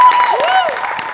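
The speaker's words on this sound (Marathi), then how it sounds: "या कार्यक्रमासाठी एकदा जोरदार टाळ्या." Studio audience applause for a Marathi comedy show, a steady wash of clapping lasting about a second, heard alongside tonal music or effects.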